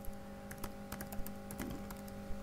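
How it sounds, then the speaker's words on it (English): Typing on a computer keyboard while entering a web address, a fast run of light, irregular key clicks that sound close and moderately loud over a steady low room hum. "I'm just going to type in"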